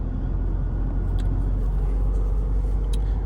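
A car drives along after testing a transmission cooler, giving a steady low engine and road rumble from inside the cabin, continuous and fairly loud with no distinct events.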